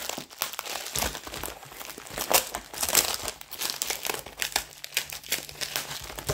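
Plastic packaging on a diamond painting kit crinkles and crackles steadily while being unwrapped by hand, a close, dense stream of rustles that keeps going with no voices.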